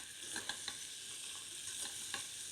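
Vegetables and spices for an Indian mixed vegetable pulao sizzle steadily in a hot pan over high heat, with a continuous frying hiss and occasional small stirring clicks, close and moderately loud, no talking.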